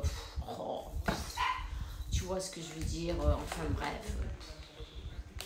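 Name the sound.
small dog barking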